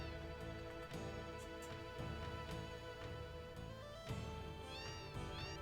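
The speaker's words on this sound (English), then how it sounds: "And then this, my favorite house in the game. It's just full of cats." Cats in a house in Final Fantasy VII (1997) meow repeatedly, several distinct mews rising over a quiet game music background, fairly faint and spaced irregularly.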